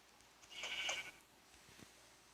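A sheep bleats once in the Minecraft video game, a short wavering call at moderate volume, followed by faint game sounds and no talking.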